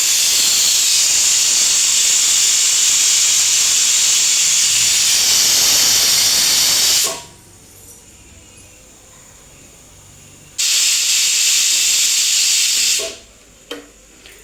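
A pressure cooker on the stove, cooking tomato bath, lets out a loud, sustained hiss of escaping steam for several seconds, stops, then bursts out again briefly before falling quiet.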